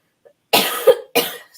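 Two sharp, close coughs come in quick succession, each a harsh burst with a short tail, after a moment of silence.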